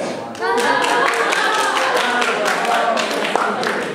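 Audience at a senior banquet claps in a dense, sustained burst, with laughter and voices mixed in beneath the applause.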